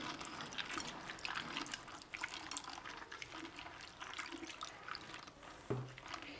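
Raw peanuts being washed by hand in water, with steady sloshing, dripping and splashing throughout at moderate level, with no talking.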